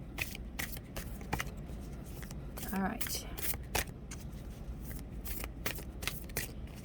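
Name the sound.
tarot cards being shuffled and drawn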